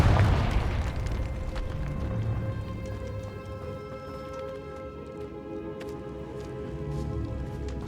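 Confringo fire spell blasting in Hogwarts Legacy inside a decayed catacomb: a loud booming burst at the start, then a long crackling, rumbling tail under sustained game ambience.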